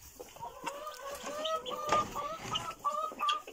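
Several chickens cluck and chatter just after being given grain, overlapping in busy, uneven bursts of short calls, close and fairly loud with a barnyard rustle beneath and no clear talk.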